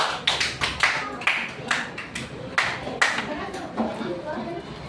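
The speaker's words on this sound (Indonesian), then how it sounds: "Tepuk tangan untuk kelompok 2" A handful of people in a classroom clap for a student group, a sparse uneven patter of individual claps with chatter mixed in.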